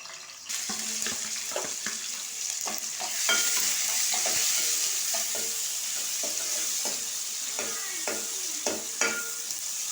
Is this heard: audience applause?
no